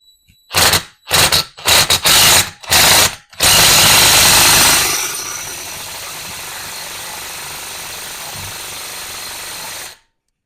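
A small DeWalt 3/8-inch impact wrench works on a differential bearing: five sharp, loud hammering bursts come close together, then one longer sustained burst that fades into a steady whirring before stopping abruptly.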